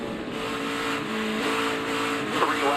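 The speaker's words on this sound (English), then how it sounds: "I want you to ride on board, and I want you to listen to the engine sound." Onboard NASCAR race car engine at Homestead-Miami, a loud steady roar with sustained harmonic drone and slight pitch rise near the end, continuous throughout with no talk.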